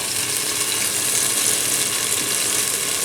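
Half a litre of water poured into a cooking pot of tomato sauce for Tunisian pasta, a steady loud rushing pour that runs without a break and without talk.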